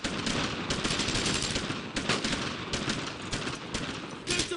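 Sustained machine-gun and rifle fire in the World War II shooter Brothers in Arms: Road to Hill 30, dense overlapping bursts rattling loudly and continuously throughout with sharp crack peaks near the end.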